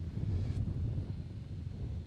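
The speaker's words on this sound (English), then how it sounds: "Oh, big gust coming." A gust of wind outdoors rumbles low against the microphone, a faint, steady buffeting that swells and eases over a couple of seconds.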